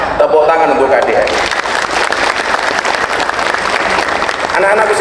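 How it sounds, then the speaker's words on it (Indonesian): Loud audience applause in a crowded hall at an Indonesian gathering, a dense continuous roar of clapping that swells and holds, with voices mixed in at the start and end. "Tepuk tangan untuk KDN."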